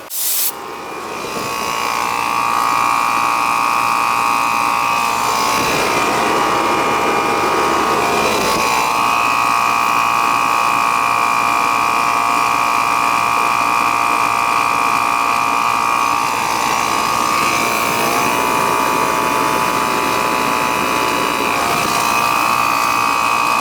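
Ruud outdoor AC unit's compressor, sweating and tripping its breaker, running with a steady loud hum and broadband whoosh for the whole stretch, nearby and continuous, with slight swells in level.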